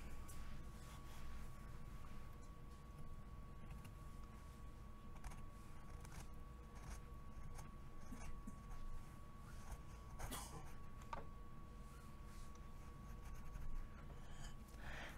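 A chisel pares wood along the neck heel of a 1972 Guild F50 acoustic guitar, giving faint, scattered scraping strokes with a few sharper cuts over a quiet room.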